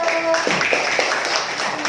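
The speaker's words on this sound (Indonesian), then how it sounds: "Kasih tepuk tangan untuk kelompok 1." Classroom applause for a student group after a presentation, brisk clapping from several students with voices faintly underneath.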